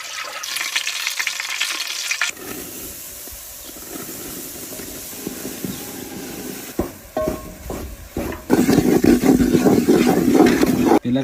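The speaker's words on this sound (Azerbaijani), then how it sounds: "Belə qaynayıb sonra hazırdır." Food cooking in a pan gives off a steady hiss and sizzle that swells louder near the end, with faint stirring scrapes throughout and no talk.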